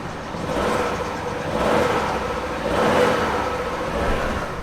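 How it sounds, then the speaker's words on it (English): A Vauxhall Astra rescued from the scrapyard, with a check-engine light still on after an O2 sensor change, runs steadily with a mid-pitched engine drone that swells in two gentle revs, close up, with no voices. "I'm actually really confused as to why the engine sounds like it's running really good now"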